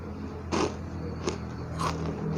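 Three crisp, crunchy bites into a traditional Indonesian snack, spaced apart, each a short sharp crackle up close over a quiet, steady background.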